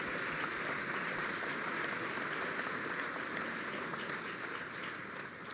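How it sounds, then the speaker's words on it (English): A full hall of people gives warm, sustained applause at a ceremony honoring donors and members of the Lindsay family, the clapping even and continuous, easing slightly just before the end. "And so here, a clap to all of them."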